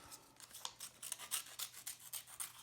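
Scissors snipping through paper while cutting out a paper doll, a close series of quick, regular crisp cuts with no talking.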